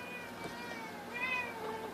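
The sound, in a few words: cat meowing in the background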